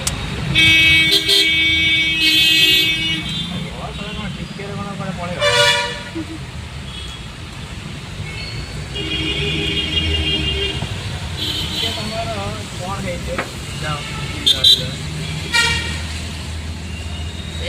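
Heavy road traffic fills a busy road with cars, buses and trucks, and repeated horn toots and honks ring out close and loud above a constant engine rumble while people talk throughout.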